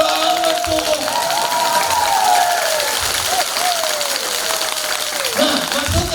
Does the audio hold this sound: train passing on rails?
no